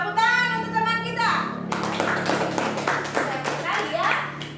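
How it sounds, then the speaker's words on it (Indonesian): Classroom of children clapping for a classmate who solved a math problem at the board, a brief burst of claps at first, then children's voices and chatter over continuing scattered claps. "Tepuk tangan untuk teman kita."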